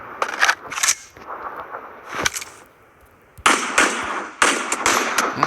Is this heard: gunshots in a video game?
yes